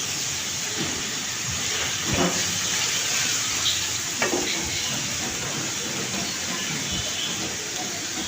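Sliced onions with added spice paste sizzle and fry in a pan for a drumstick curry, a steady loud hiss with occasional stirring scrapes and clinks.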